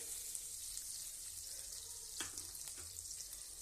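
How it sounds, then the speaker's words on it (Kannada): Butter melting in a hot pan for chana masala, giving a soft, steady sizzle up close, with a couple of faint clicks or stirring taps partway through, quiet overall. "ಬೆಣ್ಣೆ ಹಾಕ್ತೀನಿ ಇದು ಕರಗಬೇಕ್ರಿ"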